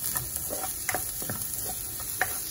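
Ground meat sautéing in a pan for a Filipino ginisa of green beans with onion and garlic, a steady sizzle broken by a few sharp scrapes and clacks of stirring, close up with no talking.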